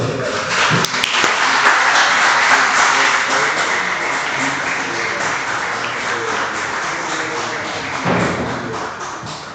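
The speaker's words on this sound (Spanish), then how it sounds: "un aplauso para todos" An audience claps together after a talk, a dense burst of applause that swells early, then thins slowly with a few sharper taps and thuds mixed in.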